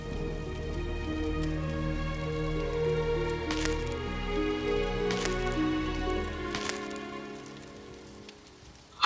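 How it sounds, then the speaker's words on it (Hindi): Heavy rain pours down in a continuous, dense patter of drops on surfaces, steady and loud throughout with no voices, easing off only at the very end. "लगता है आज वर्षा रुकेगी नहीं।"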